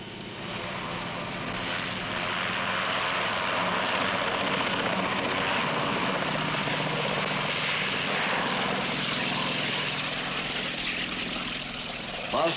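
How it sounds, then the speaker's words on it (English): A military crash-alert rescue helicopter flies overhead with a steady, loud rotor and engine drone that continues throughout, with a voice faintly beneath it. "Now you can see why a helicopter on crash alert is so valuable."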